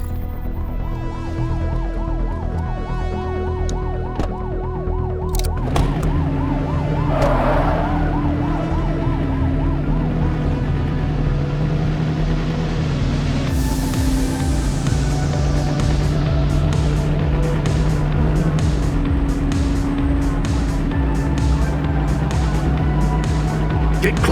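Police vehicle in The Precinct video game driving in pursuit with its siren wailing loudly, the engine droning steadily beneath the rising and falling siren throughout.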